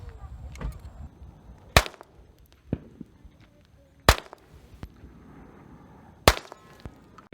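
Sig Sauer P365 pistol firing during desert target shooting near Las Vegas: three sharp, separate shots roughly two seconds apart, each a crisp crack over a low, breezy outdoor background.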